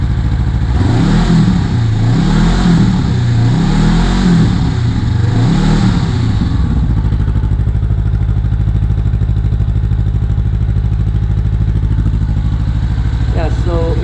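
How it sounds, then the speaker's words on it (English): A 2019 Honda CBR500R motorcycle fitted with a Scorpion exhaust revs loudly up close in several rising and falling surges, then settles into a steady deep idle. "So let me rev it up."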